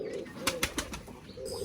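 White Bombay pigeons on a farm give a few soft cooing pulses close by, separated by short gaps, over steady background hum.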